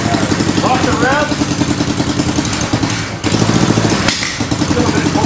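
A go-kart engine runs close by with a steady mid-pitched idle and a few light revs in cold weather, its clattering note continuing throughout while people talk over it.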